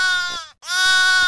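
A goat bleat, a single harmonic-rich wavering call broken by a brief gap, loud and close, with no talk over it.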